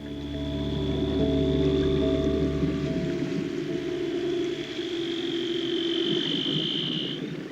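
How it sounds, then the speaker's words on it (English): Seals calling beneath Antarctic ice, long sustained tonal whistles and trills echoing through the water, some sweeping upward, layered over a dense crackling underwater background with no talk. "Antarctic explorers of all have reported hearing from above the sound of seals calling to each other below"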